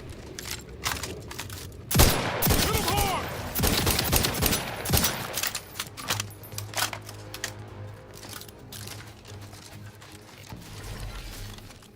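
Gunfire bursts and mechanical weapon clatter in the video game The Outer Worlds 2, a loud dense volley early on, then quieter clicks and mechanism sounds over a low hum.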